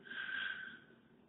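A short, faint nasal sniff from someone with a cold, a single brief breathy intake heard close up.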